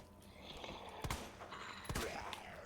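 Two sharp gunshots at zombies in Resident Evil 2, Leon A scenario, about a second apart, standing out over a quiet, muffled game background.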